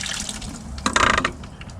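Water rushing from a 1/2-inch PVC pipe inside a greenhouse, a steady hiss that surges louder for about half a second midway before settling back, with no talking.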